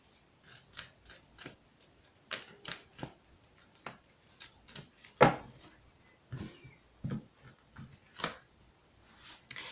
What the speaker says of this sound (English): let's just go ahead and shuffle these real quick.